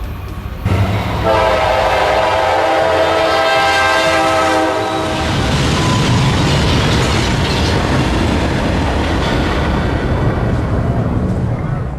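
An Amtrak train's horn blares with sustained harmonic tones over a loud rumble at about 90 mph, then the horn stops and heavy rolling rail noise continues, close and loud.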